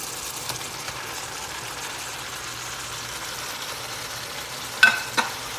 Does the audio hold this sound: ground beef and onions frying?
yes